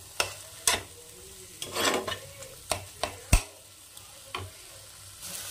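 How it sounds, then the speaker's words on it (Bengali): Eggplant stir-cooked in a pan with salt and chopped green chilli: a soft background sizzle broken by repeated sharp spatula scrapes and clacks against the pan, irregular and close. "দিয়ে খুব ভালো করে 3 থেকে 4 মিনিট রান্না করে নেব বেগুনটাকে"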